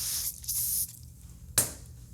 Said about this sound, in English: is spray it on a rag